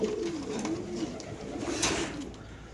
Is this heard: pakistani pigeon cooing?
yes